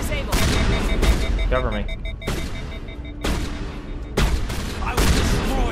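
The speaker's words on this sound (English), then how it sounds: "Okay, this shotgun is not doing me no favors here." Shotgun blasts and other gunfire in the sci-fi shooter Mass Effect, a few loud booming bursts spaced across the clip with a firefight continuing between them, while a voice speaks over the action.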